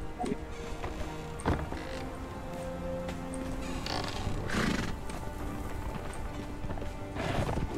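Horse hooves clip-clopping in the video game Conan Exiles, soft repeated hoof thuds with a whinny, moderately faint over a steady background ambience.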